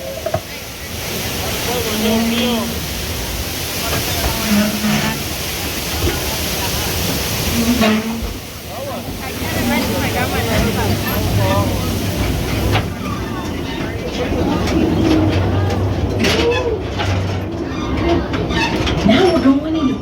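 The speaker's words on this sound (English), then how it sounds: "this train will now be in motion" An amusement park mine train ride rolls along its track with a continuous rumbling, rattling drone, steady throughout and heard from aboard, while people's voices carry over it.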